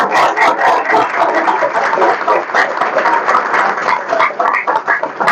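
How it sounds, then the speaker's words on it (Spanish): An audience at a political gathering on nonviolence in Argentina applauds a comrade, loud, close clapping from a sizable crowd with a few voices and cheers mixed in, sustained throughout. "Un aplauso para el compañero."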